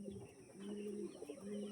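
A small, slender pigeon gives soft, low coos in a quiet close-up, a few rolling notes over faint background hiss.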